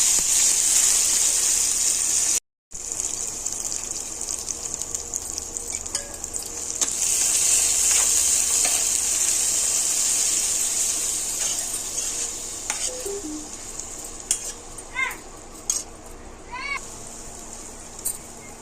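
Tomatoes tipped into a pan of boti fry, a loud hissing sizzle with stirring and scraping that gradually settles, broken by a brief dropout early on and a few sharp clinks near the end.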